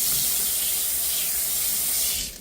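Cold tap water runs steadily over saltfish in a kitchen sink, a loud, close, continuous splashing rush that thins out at the very end.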